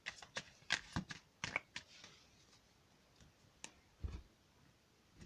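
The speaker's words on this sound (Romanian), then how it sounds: "Mai amestec un pic și aceste cărți." Playing cards shuffled by hand before a tarot-style reading, a string of quick crisp riffles and taps, close and quiet, with a few scattered clicks after a pause.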